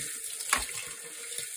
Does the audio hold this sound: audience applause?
no